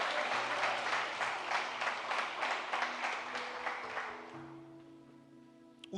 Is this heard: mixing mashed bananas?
no